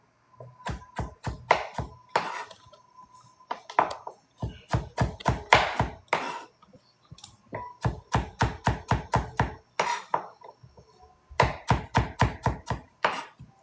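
A knife chops carrot into julienne sticks on a cutting board in quick bursts of crisp, evenly spaced taps with short pauses between runs, close and clear with no talk.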